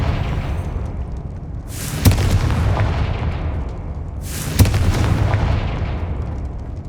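Confringo blasting spell in Hogwarts Legacy, two loud booming explosions a couple of seconds apart, each with a sharp crack that rolls off slowly over a steady rumbling game background.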